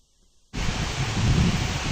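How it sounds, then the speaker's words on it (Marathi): Strong gusty wind during a heavy rainstorm roars in abruptly after a brief silence, a loud, steady broadband rush with low buffeting on the microphone and no voices. "खूप, खूप सोसाट्याचा वारा आहे."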